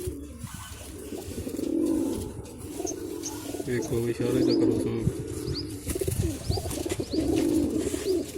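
Soft, repeated pigeon cooing in low rolling phrases, with someone talking over it and a few faint chirps above.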